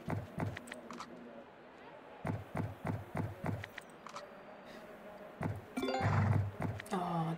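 Horses in a horse-racing slot game clip-clop in short galloping bursts of hoofbeats separated by pauses, with game jingles and a voice speaking over them near the end.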